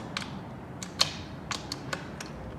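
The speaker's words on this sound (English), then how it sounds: "So as we loosen this bolt here, we're turning it outwards to extend it." A 12 mm wrench works the rear chain adjuster bolt on a Kawasaki Z900 motorcycle, giving a few sharp metallic clicks and creaks spaced irregularly against a quiet workshop background.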